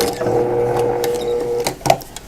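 A sewing machine runs steadily on a quarter-inch seam of a baby comfort blanket, a close continuous whir for about two seconds before stopping with a few clicks.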